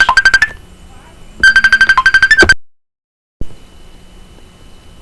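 An incoming-call ringtone blares in two loud bursts of rapid repeating electronic tones, cuts to silence, then gives way to faint room sound.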